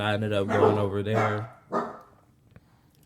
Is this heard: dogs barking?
yes